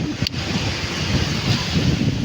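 Sea waves and wind at a beach, a broad continuous roar of surf with wind buffeting the microphone and a brief sharp knock near the start.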